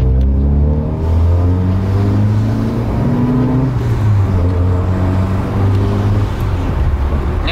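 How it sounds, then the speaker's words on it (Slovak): Car with a modified, tuned sports exhaust and sports intake revving hard, a loud, close engine roar that climbs and falls through repeated throttle blips across several seconds, with no talking. "je tu vlastne upravený výfuk, je športový, ladený, je tu športové sánie na motor"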